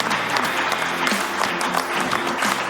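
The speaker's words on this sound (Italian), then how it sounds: "E un applauso a Riccardo." Studio audience applauds a guest on a local Italian sports show, a steady, moderately loud burst of clapping from a small crowd throughout.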